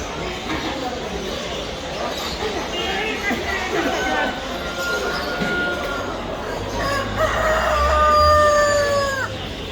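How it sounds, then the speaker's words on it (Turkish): Several roosters crow loudly near and far at a poultry market in Bursa, over a busy background of clucking chickens, ducks and geese and low rumbling. "Kazlar, ördekler, tavuklar."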